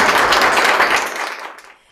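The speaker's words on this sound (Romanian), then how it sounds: "Să-i aplaudăm!" An audience applauds graduates at a post-secondary nursing school graduation ceremony in Zalău, a dense burst of clapping that swells briefly and then fades out within two seconds.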